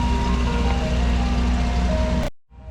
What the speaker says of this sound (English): You can still hear the ice cream guy.